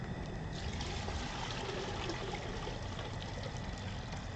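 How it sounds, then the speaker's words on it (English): Jet-black excess liquid is poured off the top of a smelting pot in a continuous, even splashing rush that lasts throughout, close and fairly loud, with no talk. "I'm gonna pour off the excess liquid"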